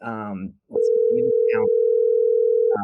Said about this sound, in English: Can you guys hear that? Mm-hmm. That ringing?